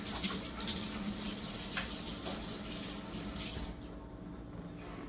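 Tap water runs steadily into a sink while raspberries are rinsed for gluten-free pumpkin pancakes, a continuous close hiss that eases slightly toward the end.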